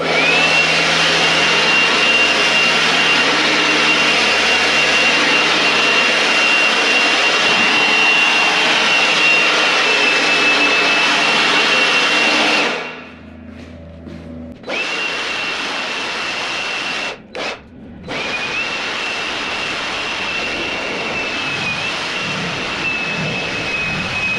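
Leaf blower clearing straw out of a garage, a loud steady whining roar with a high tonal whine that drops off briefly, returns, and cuts out twice for a moment before resuming.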